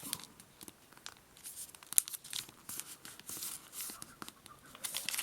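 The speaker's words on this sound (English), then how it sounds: "let's take this flap here, and we're going to do the same thing. Let's just fold it up," Origami paper being folded by hand for a star: soft crinkling and papery rustles with small crisp snaps, close and quiet, continuous and irregular with no talking.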